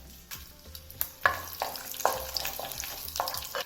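Dried red chillies frying in hot oil with mustard seeds and cumin for katte pongal tempering, crackling and sizzling close by with a handful of sharp pops and spatula scrapes, no talking.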